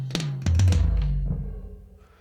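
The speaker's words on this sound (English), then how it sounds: "So here's 3 tom-tom hits." Three tom-tom drum hits in a dry mix with no added reverb, struck in quick succession, each a loud low thump with a short attack, followed by a decaying low ring.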